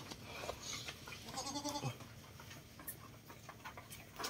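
Goats in a farm pen bleat faintly amid a busy barnyard background, a few wavering calls rising over steady rustling and distant clucking.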